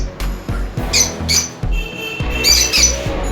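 Yellow opaline lovebirds at a breeding colony squawking in repeated sharp, harsh bursts, several calls close together and fairly loud, with no talk.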